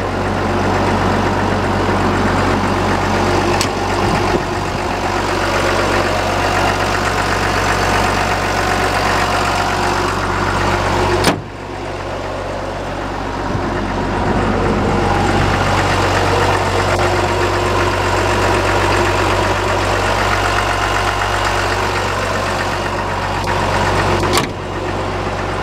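A 2008 Caterpillar 930G wheel loader idles steadily with a deep, continuous diesel rumble, loud and close for the whole stretch. There are a couple of brief knocks and no talking.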